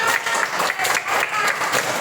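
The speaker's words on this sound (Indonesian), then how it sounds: "Tepuk tangan untuk Damar." A classroom full of people claps together in a brisk, continuous burst, loud and close, with a few voices mixed into the clapping.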